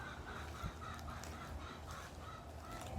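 Faint, distant clucking chickens over a low background hum, several birds vocalizing intermittently.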